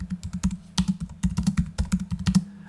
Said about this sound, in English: Matt, so we go on the notes and just type in add-on item